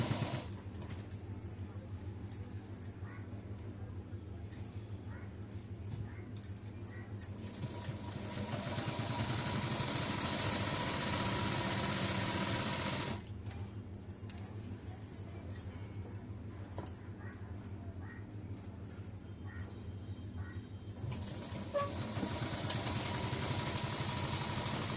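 Sewing machine running while stitching the side seam of a dress, a steady close mechanical rattle that alternates between slower and faster stretches with a brief break midway.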